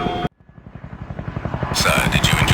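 A helicopter in the IGI 2: Covert Strike game gives a steady, rapid rotor thump that starts abruptly after a short burst and keeps pulsing evenly. Its whine grows brighter and louder toward the end.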